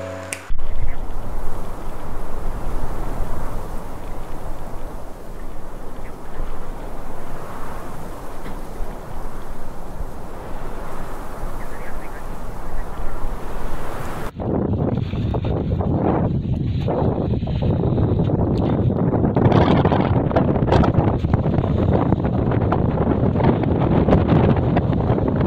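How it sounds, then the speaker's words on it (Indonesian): Strong gusting wind at an outdoor resort buffets the microphone hard, a loud continuous rumble that grows rougher and more turbulent in the second half, with no voices heard. "Teman-teman, ini video nampak kekencangan anginnya."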